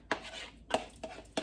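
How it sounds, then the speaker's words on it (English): Marinated shrimp added to risotto in a pan, a few sharp clinks and scrapes of a utensil against the cookware, close and spaced apart over a soft background. "I'm going to put my pound of shrimp in"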